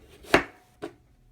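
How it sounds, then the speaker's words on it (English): Two knife chops through raw potatoes being cut into french fry shapes, a sharp loud cut followed by a softer second one about half a second later. "you can cut these into like little French fry shapes"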